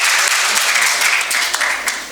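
A crowd at a student debate tournament between two high schools breaks into loud, dense applause, steady and close, tapering slightly near the end.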